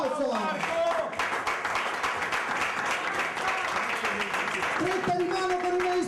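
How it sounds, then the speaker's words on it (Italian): Loud audience applause rings out at a football club's award ceremony, mixed with crowd noise and voices and a few tonal sounds that could be music, holding strong from start to finish. "Un applauso!"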